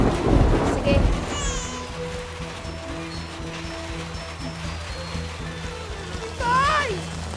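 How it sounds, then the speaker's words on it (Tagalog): Heavy rain pours down in a steady broadband wash, with a low rumble, a loud burst of voices near the start and brief speech near the end. "Lakas ng ulan"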